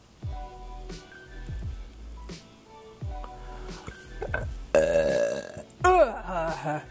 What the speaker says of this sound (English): People get so offended when I burp in videos